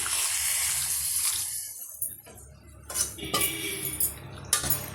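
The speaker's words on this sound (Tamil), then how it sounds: "தேவையான அளவுக்கு தண்ணி ஆட் பண்ணிக்கலாம்" Water splashes and pours into a cooking pot of bitter gourd curry close by, with a few soft metallic clinks and brief pauses in the flow.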